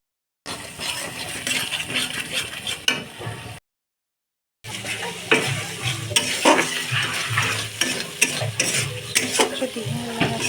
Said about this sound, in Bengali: এখন বাদাম, কিশমিশ দিয়েছি, অল্প চিনি দিয়েছি, দিয়ে নাড়াচাড়া করে এগুলো করে মিক্সড করে নেব।